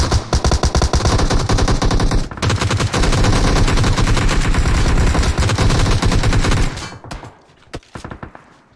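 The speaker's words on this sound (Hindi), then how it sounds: "सारी जगह से सभी जगह से फायरिंग हो रही है" Sustained rapid automatic gunfire from PUBG Mobile on the Vikendi map, loud and dense bursts of shots fired continuously for several seconds, then tapering into a few scattered isolated shots.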